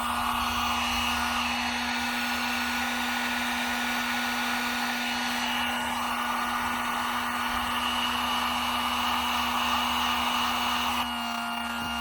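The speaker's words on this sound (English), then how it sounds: "now with the heat gun," Heat gun blowing hot air to melt the wax on a waxed jacket: a steady, close, loud whir with a constant hum, running unbroken until a slight change near the end.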